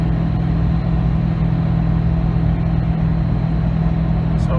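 Ford F350 pickup fitted with a Detroit 4-53T turbo diesel engine held at full throttle in fourth gear up an 8% grade, a steady, loud, low droning engine note that stays constant with no talking.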